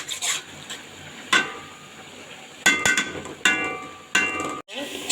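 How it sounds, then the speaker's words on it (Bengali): Beef and cabbage stir-fried in a pan: a low continuous sizzle broken by several sharp clanks and scrapes of a utensil against the pan, arriving in irregular bursts. "তো পাতাকপি দিয়ে আর একবার ভালো করে কষাবো"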